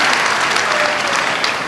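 A crowd at a Hindi comedy poetry gathering in Haryana claps loudly, a dense, continuous burst of applause holding even throughout the short span with no speech over it.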